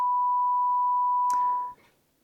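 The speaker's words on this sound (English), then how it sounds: "I should be able to pick up frequencies up to 1 kHz, which is about B5 on a piano." A steady, pure 1 kHz sine tone, near B5 on a piano, holds clean and constant, then fades out just before the two-second mark.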